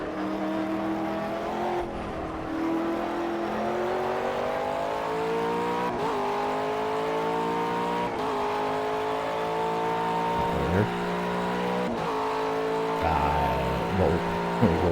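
Race cars in Project CARS on a twelve-hour Green Hell endurance event, engines droning and rising in pitch through repeated upshifts, with several cars layered close together and a brief squeal of tyres, continuous for the whole stretch.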